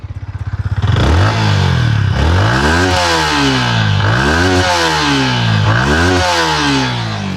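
Exhaust of a 2026 Yamaha MT-15 with variable valve actuation, starting from a rapid idle putter then revved hard in repeated rising sweeps that drop back, loud and close with no talking.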